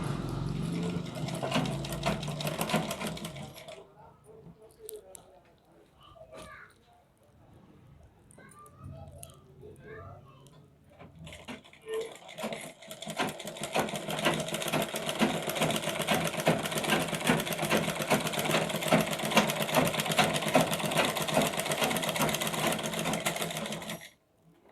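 A sewing machine stitches a lined blouse sleeve in two bursts: a loud steady run at the start, a quieter pause with handling and light talk, then a long continuous run to the end.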